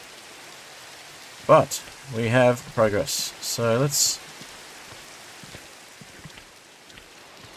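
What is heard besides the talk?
rain falling in Minecraft video game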